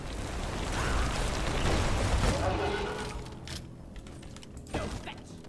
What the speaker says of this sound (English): I'm gonna just shoot them